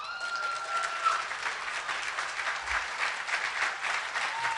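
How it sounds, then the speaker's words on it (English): Luncheon audience at an awards ceremony applauding a gold award winner walking to the stage, steady dense clapping that holds evenly for several seconds. "Katie and Ron applaud as Madison walks to the stage."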